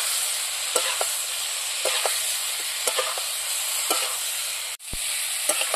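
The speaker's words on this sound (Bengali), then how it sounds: "আলু ফুলকপি দিয়ে দিলাম। এখন একটু ভালো করে কষিয়ে নেব।" Potatoes and cauliflower with crushed ginger-garlic sizzle steadily in a pan, with a spoon scraping and knocking at irregular intervals over the constant frying hiss and one brief clunk near the end, close and alone without speech.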